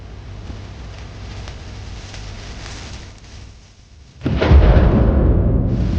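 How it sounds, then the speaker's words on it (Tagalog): A night thunderstorm with sharp lightning and strong wind: a steady windy roar dips briefly, then a loud, sudden crack of thunder bursts in and rolls on. "May kasamang matatalim na kidlat at malakas na hangin."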